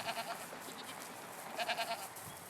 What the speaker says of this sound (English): We're a cashmere goat farm